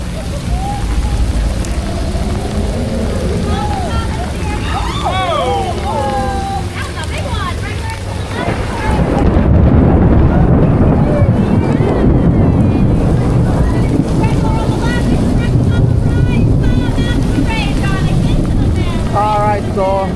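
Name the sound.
rain falling at Dark Universe, Epic Universe theme park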